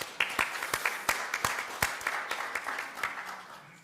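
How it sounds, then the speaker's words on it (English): Church meeting attendees give a round of applause, a thin, fairly quiet spread of individual claps with distinct sharp hits over a few seconds. "Can we give them a round of applause, please?"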